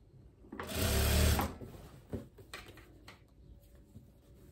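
Sewing machine stitching a folded hem on a viscose blouse: one short, loud burst of rapid stitching, followed by faint clicks and handling noises.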